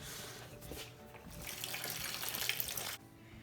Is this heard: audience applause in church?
no